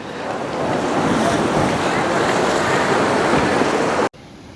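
Sea waves wash against the shore near Dwarka, a steady, loud surf roar mixed with wind buffeting the microphone, cutting off abruptly near the end.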